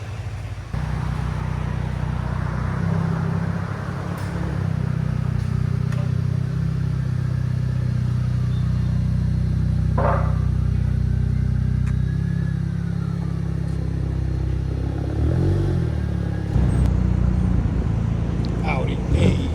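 A 2018 Audi A3 S-Line with a 2.0L turbo engine and straight-pipe exhaust idles with a steady low drone. It revs up briefly near the end, with voices faintly audible over the engine.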